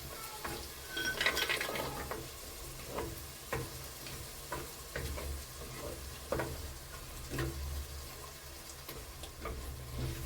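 Chorba frik with chickpeas and a coriander-mint mix being stirred in a pot as it fries, with steady sizzling under repeated spoon scrapes and clinks against the cookware, fairly close and continuous.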